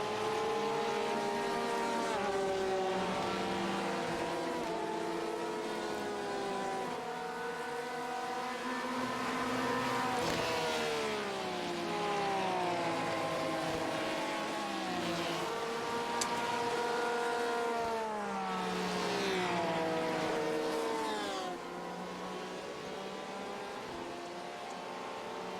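Cars race on a track, their engines rising and falling in overlapping pitch sweeps as they pass, with steady motor whine throughout and the sound fading slightly near the end.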